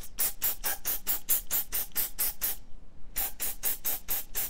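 Mold release sprayed onto a resin casting mold in a steady series of short, sharp hissing bursts, close up, with a brief pause midway before the rapid spraying resumes.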